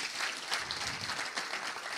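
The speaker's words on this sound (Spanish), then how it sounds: "Vamos a darle un fuerte aplauso también a todo su equipo." Applause ripples through the audience for a congressman's team at a conference on conscientious objection, a brief burst of many hands clapping, moderately loud with uneven swells.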